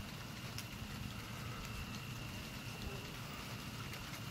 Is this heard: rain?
yes